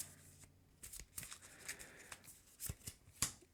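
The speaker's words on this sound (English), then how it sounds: "we're shuffling Natural Flight into the encounter deck." Playing cards are shuffled into an encounter deck for the Marvel Champions card game, a quiet close sequence of riffling and tapping bursts with soft pauses, with no talk.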